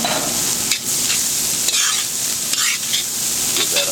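Raw cauliflower fried rice sizzles and crackles over an open fire, with a steady frying hiss broken by several scraping stirs and tosses of a utensil through the pan, close and fairly loud with no voices.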